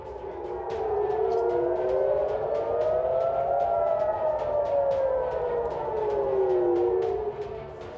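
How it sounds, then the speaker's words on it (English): Air raid warning sirens in Kuwait wail, rising and falling in long, slow sweeps, loud and sustained, with a second tone overlapping, sounding like an outdoor warning siren. "Sirens were also heard in Kuwait."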